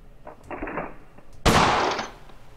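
Colt 1911 pistol fired at a shooting range in the World of Guns video game: a muffled report followed by a loud, sharp synthetic shot with a short decaying tail, no talk.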